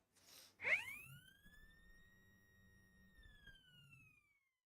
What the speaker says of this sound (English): Do anticipate a loud final siren